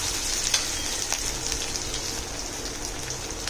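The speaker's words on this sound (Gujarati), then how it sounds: "હવે ડુંગળીને આપણે થોડી વાર એને સાંતળવાની છે થોડી નરમ થાય ત્યાં સુધી" Onions sauté in a pan for a Gujarati curd curry, giving an even, continuous sizzle and hiss with faint occasional crackles and no talking.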